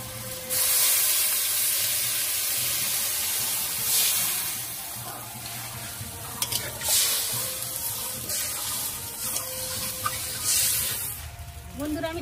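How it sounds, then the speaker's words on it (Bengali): Water is poured into a thin river-fish curry in a hot pan, giving a loud hissing, sizzling splash that swells and fades in waves over a low background hum. "এর মধ্যে যতটা পরিমাণ মতন জল লাগবে আমি ততটাই জল দিয়ে দেবো"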